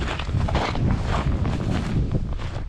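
Steady wind gusts across a frozen lake during winter perch fishing with a spinning rod, a continuous broadband rush buffeting the microphone with no clear pauses.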